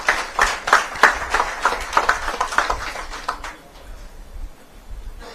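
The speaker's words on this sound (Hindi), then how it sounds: "आप सब एक बार जोरदार तालियों से सुरेश जी का स्वागत करें" A hall audience claps together to welcome a guest speaker at a Jain community gathering, a dense burst of applause that fades after a few seconds into quiet room tone.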